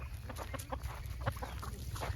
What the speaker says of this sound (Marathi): ह्या सगळ्या कोंबड्या इथे फिरत असतात